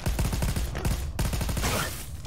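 Rapid booming bursts from a burst-fire grenade launcher in Crackdown 3 thunder in two quick volleys, loud and close, separated by a brief gap before a noisy tail.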